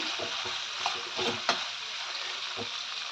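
Cumin and salt are stirred through a sizzling pan, with soft scraping strokes and a few sharper knocks over a low, continuous frying hiss.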